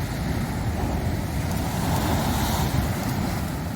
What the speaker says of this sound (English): couldn't resist the wave action